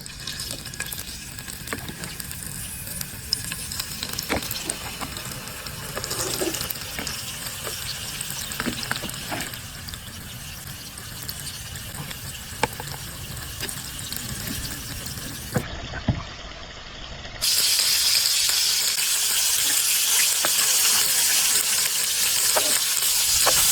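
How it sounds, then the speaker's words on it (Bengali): Spiced hilsa fish pieces frying in hot oil, a loud continuous sizzle and crackle with scraping and stirring in the pan, brief pause then louder sizzling, no speech. "এবার গরম তেলে এক এক করে ইলিশ মাছগুলো ভেজে নেবো"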